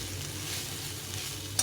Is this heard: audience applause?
no